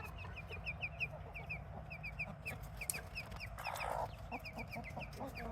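Backyard chickens in a flock with newly added chicks cluck and cheep in frequent short calls, fairly close, over a low outdoor background with no talking.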